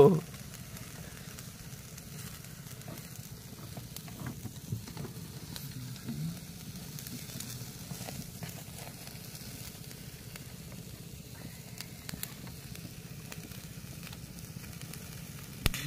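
Freshly caught Sundarban crabs, still alive, roast over an open fire at night, giving a soft, low, steady crackle and hiss with scattered small pops throughout.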